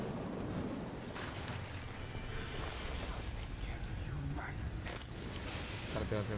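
Dense combat noise in The Evil Within 2 on PlayStation 4 as a smoke bolt is fired, a muffled boom and rumbling, crackling effects amid continuous low background clatter.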